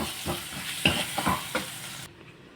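Spices frying in a pan for vegetable masala khichdi, a steady sizzle with several soft stirring scrapes at a near distance, then cutting off abruptly near the end.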